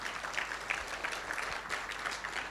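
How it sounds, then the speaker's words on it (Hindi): An audience at an Indian event gives a round of applause, a steady wash of many hands clapping at moderate distance, fairly soft and unbroken for the whole stretch. "एक बार जोरदार तालियां सर के लिए,"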